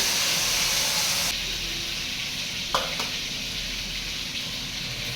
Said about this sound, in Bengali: লোটে মাছটাকে আমি হালকা করে ভেজে নিচ্ছি